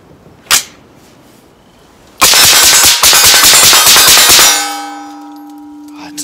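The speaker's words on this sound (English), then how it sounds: "I wanna see how fast I can get off 10 rounds of this Sergeant Major here at 25 yards" Ten rounds ring out in rapid succession from a Northtac Ronin rifle, a Sergeant Major model, at a 25-yard target. A single sharp metallic clang comes first, then a loud, dense burst of shots lasting about two seconds, then a fading ringing tone.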